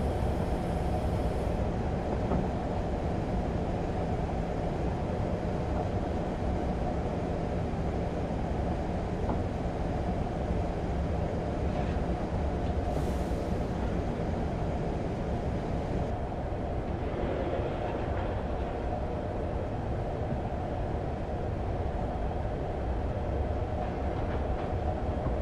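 A train rumbles steadily past on the Woodhead Line, a continuous loud rolling roar with faint clatter that stays close and even throughout, with no talking.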